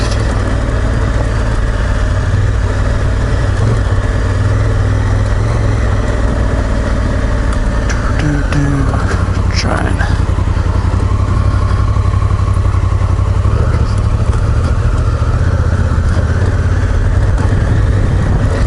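Honda Africa Twin motorcycle engine running hard on a dirt trail, a loud, close, steady rumble with brief revving and mechanical clatter partway through.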